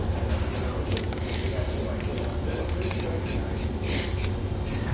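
Black Rust-Oleum spray paint hissing onto bare metal under a 2018 Chevrolet truck bed, one continuous close spray running throughout with a few brief pulses.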